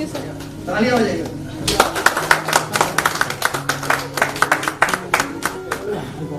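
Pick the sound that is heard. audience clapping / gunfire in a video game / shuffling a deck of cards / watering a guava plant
audience clapping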